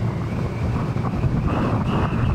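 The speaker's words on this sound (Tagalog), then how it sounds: "Oh, galakas ng hangin dito." Strong wind in Dingle buffets the microphone in a steady, loud low rumble that keeps up without a break.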